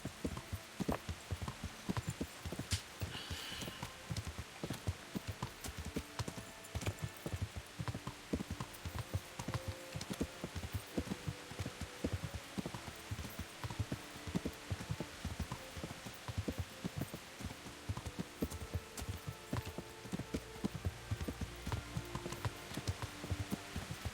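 Steady horse hooves clip-clop in a continuous rhythm for a long stretch in the video game Kingdom Come: Deliverance, with a soft rain-like patter in the background.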